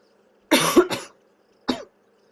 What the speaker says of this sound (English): I just need to cough.